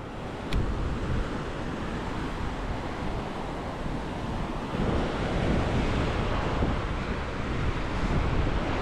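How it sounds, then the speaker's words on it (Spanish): Ocean surf breaking on the beach at Playa del Carmen, a steady broad wash of waves with wind buffeting the microphone throughout, continuous and moderately loud with no voices. "Mira, mira esta ola, qué bonita."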